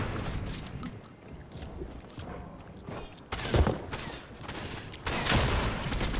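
Shotgun blasts in the Fortnite video game: two loud, booming shots a couple of seconds apart rise over a constant bed of game noise and rustle.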